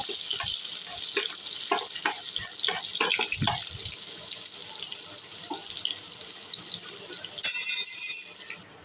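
Chopped onions, two of them, sizzle in hot oil in a pan while a fish-head vegetable curry is being made, a steady hissing fry with scattered pops and stirring clatter, and a brighter burst near the end.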